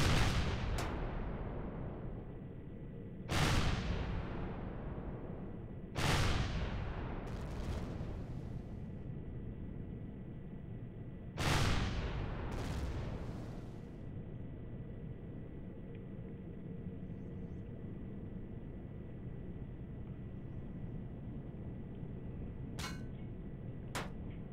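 Heavy gunfire strikes a player's ship in the space game Empyrion, landing as a few loud, booming impacts spaced several seconds apart, each fading into a long rumbling tail over a steady engine hum.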